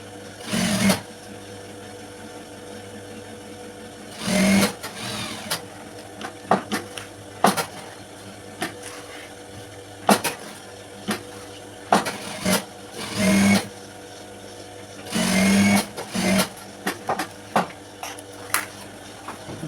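A sewing machine stitching a school skirt, running in short bursts of whirring with pauses between, loud and close against a quiet background hum.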